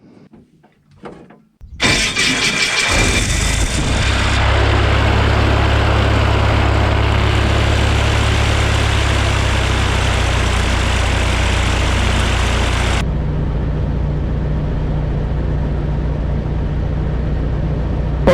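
The Zenith Super Duty Cruzer prototype aircraft's engine starts with a short sputter, then settles into a loud, steady roar and drone heard from the cockpit, dropping slightly in level partway through but holding strong.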